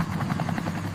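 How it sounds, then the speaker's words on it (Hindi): A cartoon helicopter on a sightseeing ride over Dubai thumps with fast, even rotor chops over a steady engine drone, loud and close. "helicopter ride time"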